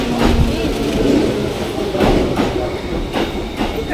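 A train arrives close by at a station near Kawaguchiko, Japan, with a steady low roar and periodic clacking, rising and falling in loudness, with faint voices in the background.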